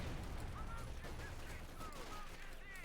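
Battle noise from Company of Heroes 2 with bazooka rockets flying and gunfire, a dense continuous din of shots and whooshing streaks with a few whistling sweeps, loud throughout.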